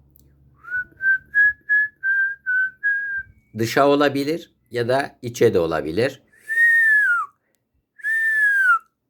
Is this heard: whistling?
yes